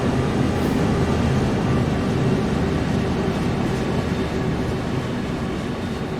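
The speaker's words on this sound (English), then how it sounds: "another train coming down the rails." A train rolls past on the rails through Cajon Pass in the video game Train Sim World 3, a steady, close, loud rumble that holds at an even level for the whole stretch with no talk over it.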